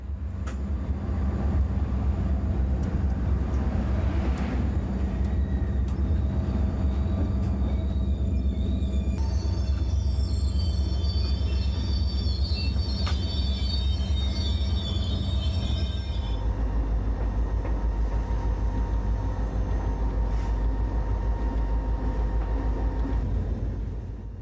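Heavy rolling rumble of a BNSF freight train, led by a General Electric C44 locomotive, passing through a siding at speed, heard from inside the cab. Steady low drone runs throughout with high wheel squeals in the middle stretch.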